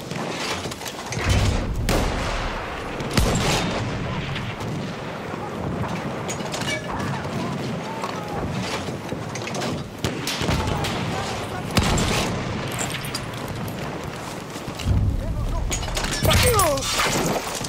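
Constant battlefield gunfire in the Battlefield 1 video game, with dense overlapping shots and booming blasts filling the scene, and a voice speaking now and then in the mix.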